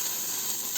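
Onions sizzling and being stirred in a dry pan with no oil as they brown and sweeten, a continuous close crackling hiss with faint scraping.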